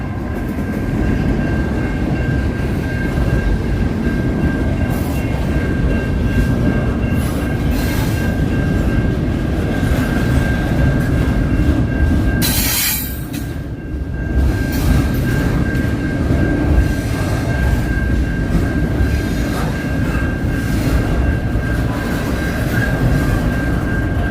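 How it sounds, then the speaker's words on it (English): A freight train led by diesel locomotive CN 2824 passes steadily late at night for a long stretch, low engine drone and rolling wheel noise with a constant high whine, no voices. "We got some, we got an engine here. 2824, CN 2824. I love that sound."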